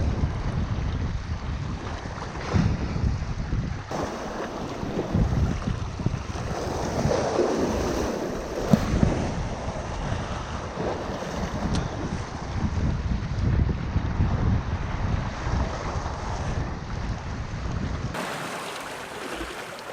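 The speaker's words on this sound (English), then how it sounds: "Got heavy wind today." Heavy wind roars across a Baja shoreline campsite, buffeting the microphone in a steady, loud rush with gusts, mixed with surf washing in nearby for the whole stretch.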